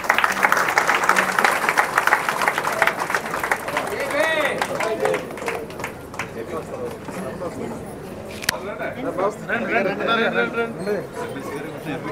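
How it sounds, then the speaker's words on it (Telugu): Applause rises from an audience at a Telugu public stage event as a guest is welcomed onto the stage: a dense, sustained patter of clapping mixed with crowd noise and talk, steady throughout with a louder moment near the middle. "గట్టిగా మీ చప్పట్ల మధ్యలో."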